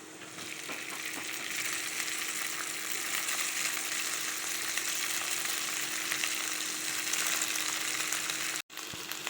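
Cooked basmati rice frying in a pan with green chilli and salt for green fried rice: a close, steady sizzle that keeps up throughout, briefly dropping out near the end before resuming.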